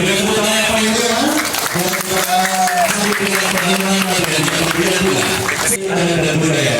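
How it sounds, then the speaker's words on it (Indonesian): Audience applause welcoming police officials at a ceremony in Palembang, South Sumatra, a dense steady wash of clapping throughout, heard under and alongside music or a voice with sustained tonal lines. "Kita berikan tepuk tangan yang paling meriah."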